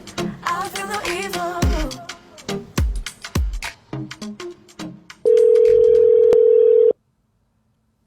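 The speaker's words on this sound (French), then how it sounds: "Ça sonne." An outgoing phone call ringing, a steady electronic ring tone lasting a couple of seconds after a stretch of someone talking over a call-in radio line, then quiet.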